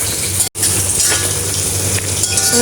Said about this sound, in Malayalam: അതുപോലെ തന്നെ ക്യാപ്സിക്കം ഒരു ചെറുത് ക്യൂബ്സ് ആക്കിയത് ഇട്ട് കൊടുക്കുക. നന്നായി ഇളക്കി കൊടുക്കുക.